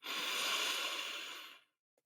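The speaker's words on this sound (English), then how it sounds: "So we're going to breathe that in." A long, slow breath drawn in during a guided meditation, soft and airy, swelling and then fading to silence after about a second and a half, with a faint click at the end.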